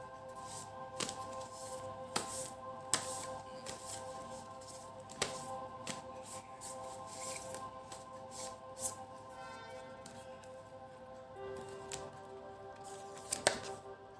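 Tarot cards shuffled by hand in a series of crisp riffling snaps and soft slides, irregular and close, over a faint steady musical hum.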